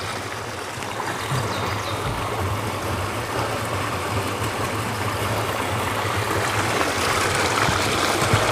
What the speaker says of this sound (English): There's a stream meandering down the hills.